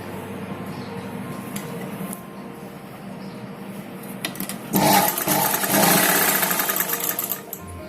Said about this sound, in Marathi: त्याचा आपण कंप्लीट अगोदर पूर्ण स्टिच करून घेऊया